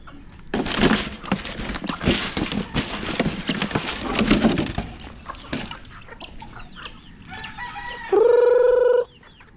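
A rooster crows loudly near the end, a long rising call, after several seconds of clucking, flapping and scuffling from a group of fowl.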